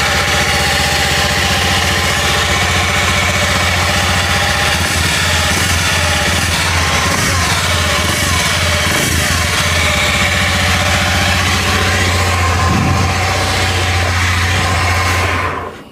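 A Honda Beat FI motorcycle engine with a rough-running fault idles steadily up close with a rough, uneven chugging rumble, loud and continuous, then cuts off at the end.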